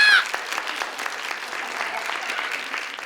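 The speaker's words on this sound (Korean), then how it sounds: "박수 해주세요" Applause from a church audience at a Christian ventriloquist's performance, a dense steady patter of clapping that starts with a brief loud burst and then holds at a moderate level throughout.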